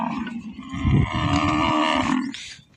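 A cow lets out a long, loud moo close by, a deep drawn-out call lasting a couple of seconds.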